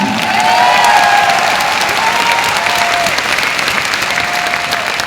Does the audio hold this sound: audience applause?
yes